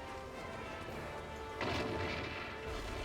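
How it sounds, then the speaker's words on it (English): A cannon fires in Monster Hunter 3 Ultimate, a single loud booming blast near the middle, followed by a rumbling tail over the steady game background. "Can I even get him with a cannon from here?"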